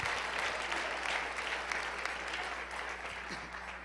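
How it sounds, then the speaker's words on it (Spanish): A church congregation claps together during a sermon, a soft, sustained spread of many hands heard from a distance under a faint room hum. "Dale un aplauso al Rey."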